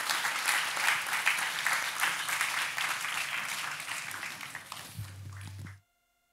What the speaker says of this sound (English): please join me in complimenting and applauding our panelists